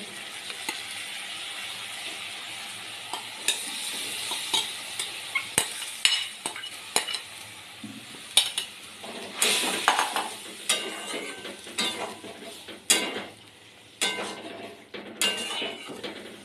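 Boiled chana dal with raisins being stirred gently in a pan, a soft sizzle under repeated scraping and clinks of a spatula against metal, close and moderately loud, with no talking.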